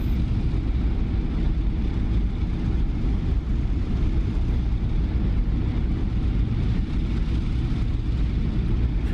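A warbird's piston engine idles through warm-up in the DCS World flight simulator, a constant low rumbling drone that holds steady and close throughout with no speech.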